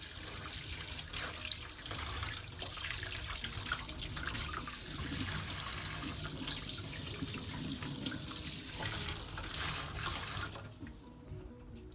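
Soaked mackerel rinsed under a running kitchen tap, a steady close rush of water splashing into the sink that cuts off sharply near the end, leaving quiet room tone.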